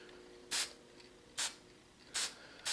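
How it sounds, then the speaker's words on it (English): Short bursts of an aerosol chemical spray aimed onto image transfer paper, four quick hissing sprays at irregular intervals, close and clear against a quiet room with no talking. "You see, I am spraying way up here."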